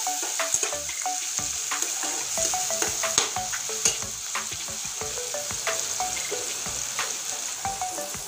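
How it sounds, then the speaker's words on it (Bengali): Tomato and spices fry in a pan with capsicum, giving a steady sizzle under frequent light scrapes and clicks of stirring, close and continuous. "আর অল্প পরিমাণ টমেটো দিয়ে দিচ্ছি। এবার একসঙ্গে ভেজে নেব সুন্দর করে,"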